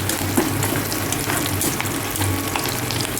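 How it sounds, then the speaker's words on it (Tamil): Shallots and garlic sautéing in hot oil in a pan for a fish curry, a steady, dense sizzle and crackle that holds at an even level throughout, close and without talk. "இது வதங்கிக்கிட்டே இருக்கட்டும்."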